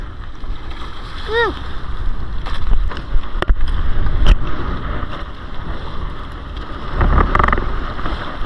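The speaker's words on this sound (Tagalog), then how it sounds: "Lakas ng alon." Waves slap and thud against a lobster net-fishing boat's hull amid gusting wind at sea, with a brief whistle-like chirp early on and heavier surges later.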